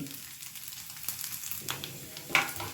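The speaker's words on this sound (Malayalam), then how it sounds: "അങ്ങനെ ഇത് നന്നായിട്ട് ഫ്രൈ ചെയ്തെടുക്കുക" Manoharam, a Palakkad sweet, frying in hot oil until golden brown, a steady soft sizzle and bubbling close by with a few brief crackles.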